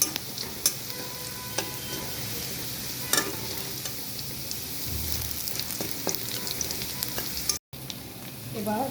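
Onions frying in a pan until light brown for a restaurant-style beef sizzling dish, a steady close sizzle with occasional stirring scrapes and a brief dropout near the end.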